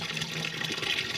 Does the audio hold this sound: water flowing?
yes